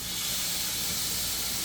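London broil steak searing on a Ninja Grill, a loud, dense, unbroken hiss that runs from start to end without pause and without voices.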